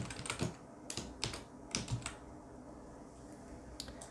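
Quick bursts of typing on a computer keyboard, several rapid clusters of clicky keystrokes with short pauses, close and fairly quiet over a faint room hiss.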